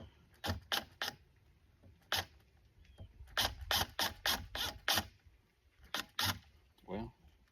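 Cordless drill driving a screw into a soaking wet dock, heard as repeated short ratcheting bursts in quick clusters, close and fairly loud, with pauses between runs.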